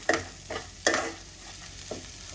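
Potato and poha upma ingredients frying in a pan, soft sizzle broken by a few quick spoon scrapes and knocks, close and fairly quiet, no voices.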